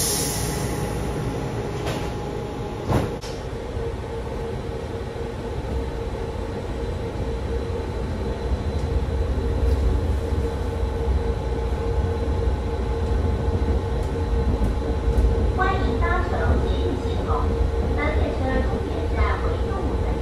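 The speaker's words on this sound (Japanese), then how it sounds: "停車中にもう後ろから列車がやってきております" A train on a Taiwanese metro-run automated transit line arrives from behind at a station, rumbling steadily with low mechanical hum, brief clunks early on, and faint squealing and rattling as it draws near.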